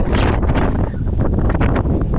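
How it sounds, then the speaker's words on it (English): Strong wind buffets the microphone on Bodmin Moor in Cornwall, a loud, continuous roaring rumble with gusty surges throughout and no voices. "it's too windy for me today"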